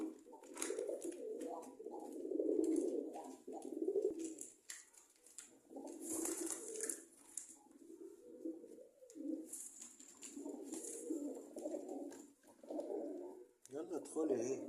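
Pigeons coo repeatedly in low, throaty bursts, close by, with short pauses between calls and some faint rustling.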